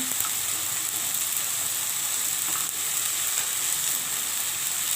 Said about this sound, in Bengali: এখন লঙ্কা বাটা দিয়ে দিচ্ছি।